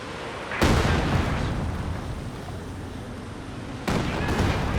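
Katyusha rocket artillery salvo in the Company of Heroes 2 war video game: two heavy booming bursts, the second about three seconds after the first, each trailing into a rumbling roar.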